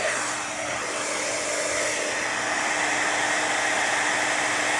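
Heat gun blowing steadily to melt embossing powder on a craft project, a continuous loud close whoosh that holds unchanged throughout, with no talking.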